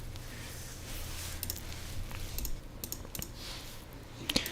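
Typing on a computer keyboard, a steady run of quick soft key clicks with a few sharper taps, close by and alone without talk.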